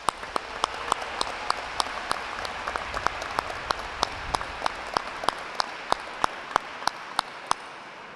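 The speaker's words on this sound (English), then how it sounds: "Please join me in recognizing all the members of our NOVA team with a heartfelt round of applause." Applause at a college commencement ceremony, with steady crowd clapping under a series of evenly spaced sharp clicks, staying moderately loud throughout.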